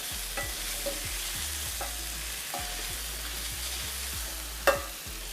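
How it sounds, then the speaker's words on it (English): Garlic and fresh apricots sauté in olive oil in a pan, a steady close sizzle broken by repeated scraping stirs and one sharper clink near the end. "now I'm going to add the garlic as well as the apricots. Hit it with a little bit more of olive oil and begin to saute that"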